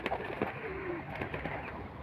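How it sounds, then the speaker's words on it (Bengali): Madras pigeons, a hybrid-feathered pair, coo softly and repeatedly in a close, continuous murmur with low throaty calls throughout. "এই যে খুবই সুন্দর একটা কোয়ালিটির পায়রা আপনারা দেখতে পাচ্ছেন"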